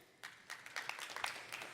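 Scattered applause from a small audience at a talk, a brief sparse round of hand claps rising and fading over a couple of seconds.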